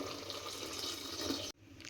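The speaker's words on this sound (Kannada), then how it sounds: "ಈಗ ನೀರು ಹಾಕ್ಕೊತಾ ಇದ್ದೀನಿ." Water pours steadily into a cooking pot for avarekalu pulao, a soft continuous splashing that stops abruptly after about a second and a half.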